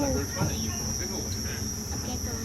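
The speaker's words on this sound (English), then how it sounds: "All set against a chorus of crickets." A chorus of crickets chirps through the night at a Singapore night safari, steady high trilling layered over a low ambient rumble, continuous and moderately close.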